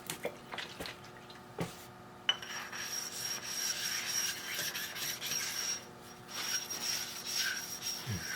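Metal on a small steam engine build being rubbed with an oiled stone and WD-40, heard as a continuous scraping rasp in repeated strokes with a few knocks, close and moderately loud.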